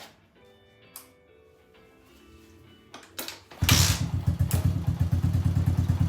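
Kawasaki KLX110 dirt bike with a 143 big bore kit kick-started for the first time after a rebuild: a few clanks and kicks, then the single-cylinder engine catches and chugs in a loud, rhythmic, uneven idle up close.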